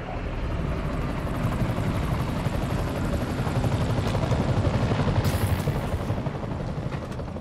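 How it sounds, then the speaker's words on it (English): Helicopter rotor chopping in the Spider-Man PS4 video game, a steady loud whir that holds throughout with a brief brighter burst of game effects partway through. "I'm fighting a helicopter now."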